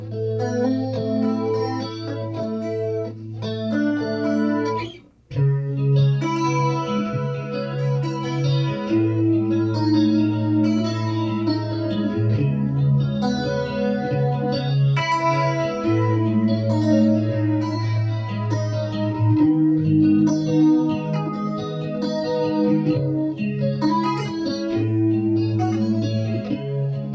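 A chorus effect on a sustained instrument gives a swimmy, doubled tone, as if two slightly offset copies play together; steady chords and melody notes ring out with a brief dropout near the start, with no speech.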